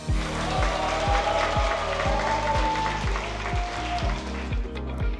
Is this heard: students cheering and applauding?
yes